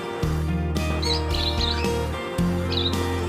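Pairs of red-headed lovebirds kept in a cage chirp in short, high bursts that come and go over a steady, droning tonal background.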